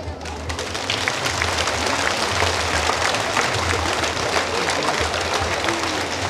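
Stadium crowd applauding a soldier at a city millennium celebration, a broad sustained clapping spread across a large open space, steady and fairly distant.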